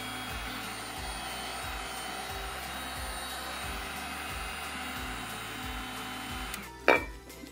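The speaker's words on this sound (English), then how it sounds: "Here I'm using a heat gun for about 30 seconds." A heat gun blows steadily on a kart tire, a constant droning whoosh with a low rhythmic pulse underneath, ending in a brief louder clunk near the close.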